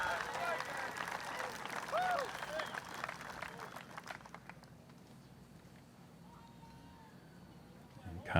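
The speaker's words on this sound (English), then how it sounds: "listen to the crowd" Spectators cheer and applaud at the 2023 PDGA Pro World Championships disc golf final, a steady mid-level crowd roar in the first four seconds that fades to a quieter murmur, with commentators talking over it.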